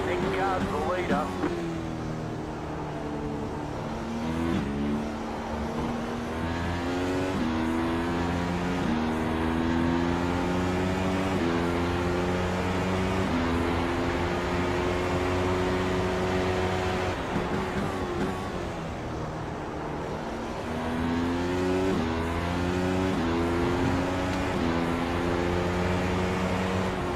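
Simulated F1 McLaren MP4-30 race cars at Interlagos in iRacing, a steady high-revving engine whine with rising and falling gear-change sweeps, continuous and loud, with someone talking over it.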